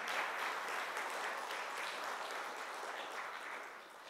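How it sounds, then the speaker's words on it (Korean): Audience at a mid-sized business leaders' day ceremony in Korea breaks into steady, dense applause. It holds evenly for about four seconds, then tapers slightly at the end, with no voices over it. "회원사 여러분들이 박수로 응해 주시면 받아주시리라 생각합니다."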